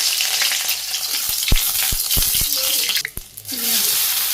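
Whole cumin seeds and green chillies hit hot oil and fry loudly, with several sharp spattering pops and a clink or two over the crackle before it briefly dies down and returns.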